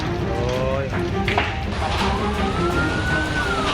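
A fire truck siren wails as fire engines respond to a house fire in Liwa, West Lampung, its rising tone loud amid busy street noise and voices.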